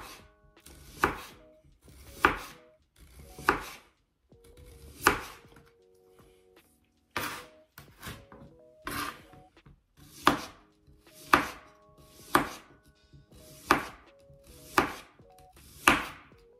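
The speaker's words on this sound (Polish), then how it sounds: "Cebulę kroję tylko w plastry." A knife slices small onions into rings on a board, about a dozen sharp, evenly spaced cuts ringing out one by one with brief quiet gaps between them, close and clear with no talking.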